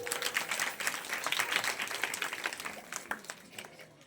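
Audience applause at a religious discourse event in Jewargi, Karnataka: steady, close clapping from a crowd that runs throughout and gradually thins toward the end.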